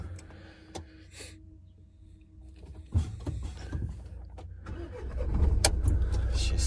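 Inside a delivery driver's car, the engine cranks with a sharp jolt near the middle, then catches and settles into a steady close-up running rumble that grows louder toward the end. No one speaks.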